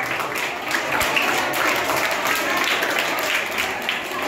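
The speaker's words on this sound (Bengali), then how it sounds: "করতালি দিয়ে অভিনন্দন জানাও স্যারকে" Steady applause from an audience at a farewell felicitation in a school, a continuous wash of many hands clapping at moderate distance with faint voices underneath.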